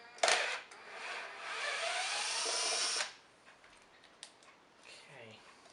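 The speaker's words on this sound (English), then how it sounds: "so we're going to give it a good hoover, a vacuum." An old vacuum cleaner roars loudly for about three seconds after a sharp start, cleaning out the inside of a 1971 Hoover Senior 6525C upright, then cuts off, leaving quiet handling noises behind.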